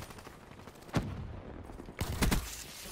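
Two sharp gunshots in Call of Duty: Black Ops 3, fired at a door about a second apart, loud and close, each with a brief ringing tail over a steady low background.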